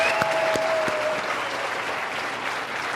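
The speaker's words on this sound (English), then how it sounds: "big round of applause" Steady audience applause in a room full of people, dense continuous clapping with a few sharper claps near the start, holding at an even level throughout.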